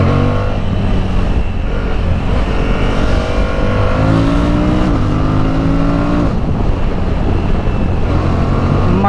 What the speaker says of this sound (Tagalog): Malakas pala tong motor na to, grabe.